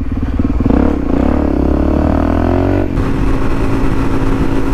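Motorcycle engine revving hard on the throttle during a wheelie, a loud steady roar with pitch climbing over a few seconds before an abrupt drop as the throttle eases, close to the rider.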